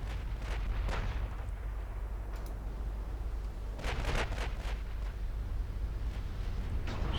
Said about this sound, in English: Louisiana firing back.